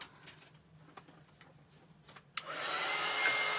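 A handheld hair dryer clicks on after a few faint knocks and ticks, then runs as a steady, close, loud whoosh through the rest of the clip.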